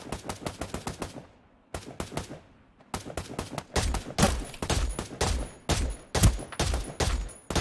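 Rapid bursts of automatic gunfire in the battle royale game Ring of Elysium, several volleys of sharp, loud shots in quick succession with brief pauses between them.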